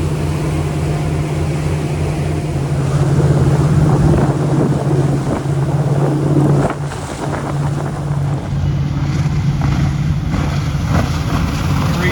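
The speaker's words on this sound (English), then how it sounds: "I got a really strong wind blowing about 15 miles an hour" Strong wind of about 15 mph roars steadily across the microphone on a boat on the Intracoastal Waterway near Wrightsville Beach, North Carolina, loud and continuous, with water and boat noise blended underneath.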